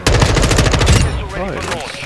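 Rapid automatic gunfire from a Kastov 762 rifle in Modern Warfare 2, a loud sustained burst for about a second, then a quieter stretch of game ambience with a brief voice.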